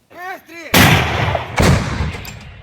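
A brief voice sound, then two heavy booms from a Soviet-era artillery cannon about a second apart, each loud and close with a long rumbling tail.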